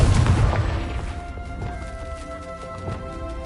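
Confringo blasting-curse explosion in Hogwarts Legacy, a heavy boom at the start that decays into a ringing, crackling tail with a few faint pops.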